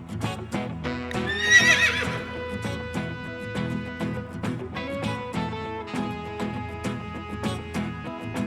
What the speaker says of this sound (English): Horse. Horse means